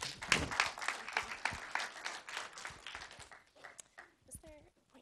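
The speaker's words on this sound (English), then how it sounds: "So let's give Kristen a round of applause." A small audience claps to welcome a guest speaker on native plants at a community talk; the dense applause is loud at first, then thins into scattered claps and fades out, with a voice briefly coming in near the end.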